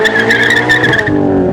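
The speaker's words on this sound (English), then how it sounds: "I went for the Remark axle back with no muffler to give it that sound that I was looking for" Subaru BRZ with a Remark axle-back exhaust and no muffler, a loud, raspy engine drone heard up close in a brief, steady burst.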